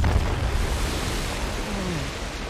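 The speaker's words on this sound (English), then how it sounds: "Waterfall." A waterfall roars in Uncharted: The Lost Legacy as a continuous, even wash of rushing water. It stays loud and close the whole time, with only a faint trace of a voice.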